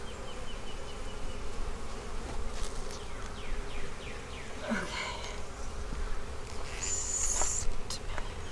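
Honey bees swarm and buzz loudly around an open hive in a bee barn, a dense steady drone filling the whole stretch with a few sharper passing buzzes close by.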